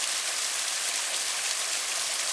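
Cold stream water pours steadily into a bucket beside a lake, a continuous bright splashing hiss with no pauses, close and fairly loud, with no voices.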